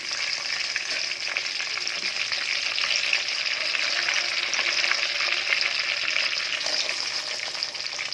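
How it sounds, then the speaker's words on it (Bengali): Bay leaves sizzling in hot mustard oil for a chicken dish, a loud, dense, continuous hiss heard up close, with no voices. "তেলে আমি তেজপাতা ফোড়ন দিলাম"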